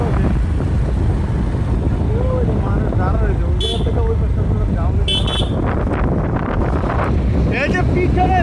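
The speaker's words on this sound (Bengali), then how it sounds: "আর ওয়েদারটা দেখেন কতটা জোর" Strong wind buffets the microphone on the bank of the Gomti River in Cumilla, a loud, steady roar with no break, and brief higher tones sound faintly through it at moments.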